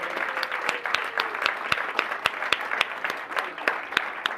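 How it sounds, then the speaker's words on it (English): Sustained applause from the audience for performers at a school district governing board meeting, with dense steady clapping and a few sharp louder claps standing out throughout. "can we have another round of applause for our incredible performers?"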